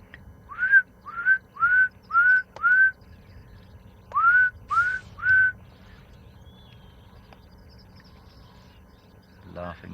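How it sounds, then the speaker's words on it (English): Scimitar-billed wood-hoopoe calling at a private game reserve in the African bush, a series of about eight loud, clear rising whistled notes in two quick bursts, followed by quiet surroundings. "Also maybe hear the scimitar-billed wood-hoopoo."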